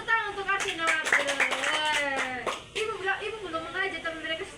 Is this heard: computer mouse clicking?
no